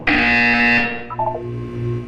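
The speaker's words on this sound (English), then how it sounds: "When you hear the buzzer, look down at the floor." A harsh, distorted electronic buzzer sounds in the Portal 2 video game, a loud sustained tone lasting under a second, then dropping into quieter warbling synthetic tones.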